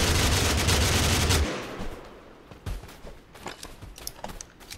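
Automatic gunfire in the battle royale game TABG: a loud sustained burst of rapid shots at first, then scattered single shots and short bursts.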